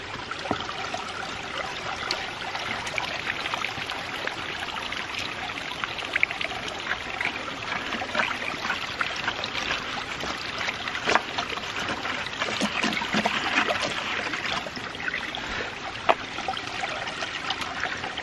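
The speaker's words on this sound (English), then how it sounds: "let's see how much of that will drain out whenever I pull the plug here" Silty, sludgy water drains out through a pulled plug at the base of a water tower after a flood, giving a steady, continuous gush and trickle that holds without a break throughout.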